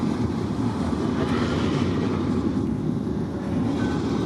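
Freight train with a DPU locomotive rolling past on a cold morning, a steady broadband rumble and rush of wheels and cars, continuous and fairly close with no talk.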